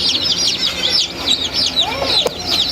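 Young meat chickens cheep in a busy chorus of high, rapid peeps under heat plates, close and steady, with a few lower clucks mixed in.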